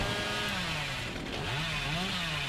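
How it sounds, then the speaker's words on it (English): A chainsaw revs in the Dead by Daylight video game, a steady buzzing whine that rises and dips in pitch, loud and continuous with no talk over it. "very close chainsaw"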